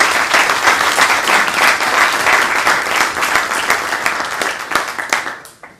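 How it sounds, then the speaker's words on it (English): An audience at a leadership symposium gives a big round of applause, loud, dense clapping from a crowd that holds steady and then tapers off to a few last claps. "he deserves a big round of applause"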